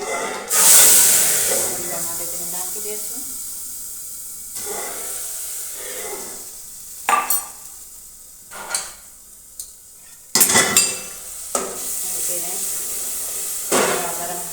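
Mustard and cumin seeds stirred in hot oil in a pan while cooking a cauliflower curry, giving a loud opening sizzle that settles into steady hissing, broken by sharp bursts of scraping and spattering.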